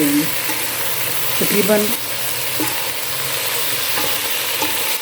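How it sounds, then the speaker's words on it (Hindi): Tomatoes sautéing with okra in a hot pan over high heat, a steady broadband sizzle with scraping stir strokes around the middle, a brief spoken word briefly over the frying. "और अब इसमें हम टमाटर ऐड कर देंगे और इसे अच्छे से भून लेंगे।"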